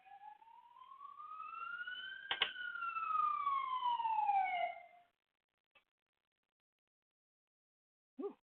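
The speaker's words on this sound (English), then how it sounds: "Oh, I can hear another siren." An emergency siren sweeps up and down outside for about five seconds, loud and steady, then cuts off, leaving near silence broken by a couple of faint knocks.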